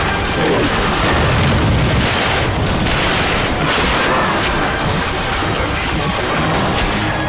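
Explosions and gunfire in the video game The Darkness II, with propane tanks blowing up amid a dense, loud, continuous roar of blasts and crashes, no talk.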